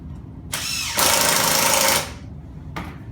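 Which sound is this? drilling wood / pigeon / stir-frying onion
drilling wood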